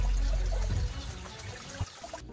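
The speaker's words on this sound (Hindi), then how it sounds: "पानी का आवाज सुनना है माइंड को आपको।" Flowing water in Darap, a quiet village in West Sikkim near Pelling, makes a steady broadband rush with a heavier low rumble in the first second, then continues evenly until a sudden stop; no one speaks.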